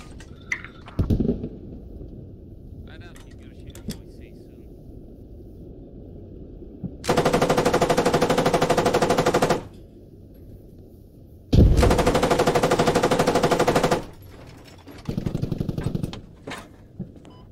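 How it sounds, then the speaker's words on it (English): Sustained bursts of automatic gunfire from enemies in a military squad video game on the Goose Bay map, two long volleys and a shorter one separated by quieter gaps with scattered single shots. "They're still shooting at us."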